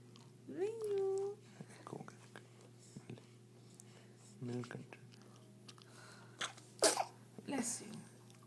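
A baby sneezes in a small sharp burst near the end, amid quiet chewing-like mouth sounds and soft adult voices over a low indoor hum.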